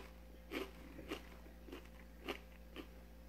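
Bites into a crunchy fried shrimp purse appetizer with an Asian dipping sauce, giving five soft crunching chews at a steady pace, close but quiet over a constant low hum.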